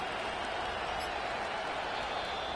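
Stadium crowd roaring at a Chargers football game late in the fourth quarter, a steady wall of broad crowd noise, distant and continuous with no distinct voices.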